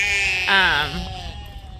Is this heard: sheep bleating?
yes